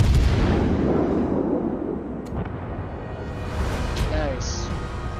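Naval guns of an enemy cruiser firing in World of Warships, a heavy booming blast at the start that rolls off into a long rumbling decay, with faint later impacts and someone talking over it.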